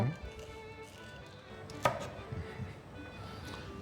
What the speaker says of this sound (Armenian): Նեխուրը համաչափ կտրատում ենք